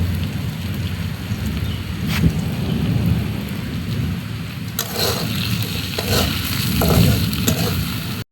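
Potatoes with salt, chili powder and turmeric frying in hot oil in a pan, a steady loud sizzle with occasional stirring scrapes and clinks, close by and continuous throughout.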